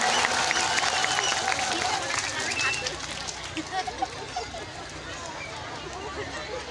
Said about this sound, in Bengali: জোরসে হাততালি হোক জোরসে হাততালি হোক